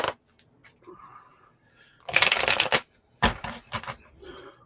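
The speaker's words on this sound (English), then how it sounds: "Let me get 2 more shuffles in." A deck of playing cards being shuffled at a table, two bursts of riffling flutter close by with small taps and handling noises between them.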